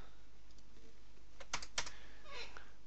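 Quick light keystrokes tap on a computer keyboard while angles are entered in Revit roof software, a short burst of a few close clicks over faint room hiss.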